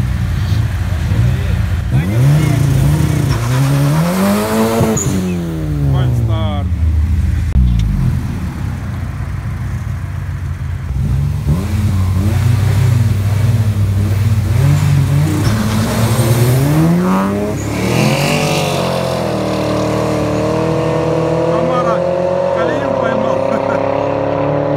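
Engines of a Subaru Impreza and a 400 hp Chevrolet Camaro roar loudly in a race, with revs climbing and falling repeatedly across the run, while people talk over the noise.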